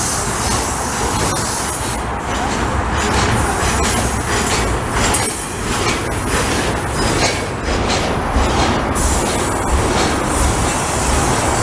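A long CP freight train hauled by a rebuilt locomotive rolls through Lachine station in Montreal, a steady loud rumble of railcars with rhythmic wheel clatter and occasional squeal passing close by throughout.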